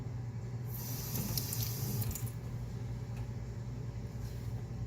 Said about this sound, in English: I'm going to take the slide out and just rinse it under tap water.